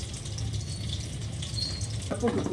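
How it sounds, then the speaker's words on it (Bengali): Ghee added to a little hot oil in a kadai while chicken chaap cooks, giving a steady soft sizzle that turns into crackling spits near the end. "এখানে যে একটুখানি তেল ছিল তারপরে একটুখানি ঘি দিচ্ছি"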